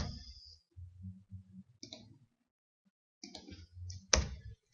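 Computer mouse buttons clicking while working in an Excel spreadsheet, a few sharp, close clicks spaced irregularly with quiet gaps between them, including one louder click near the end.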